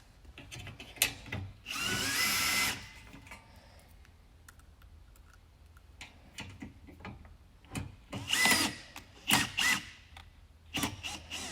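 Power drill driving screws with a screwdriver bit while a Vertex Pro four leg is assembled: short bursts of whirring motor with clicks and handling noises between, close by and moderately loud.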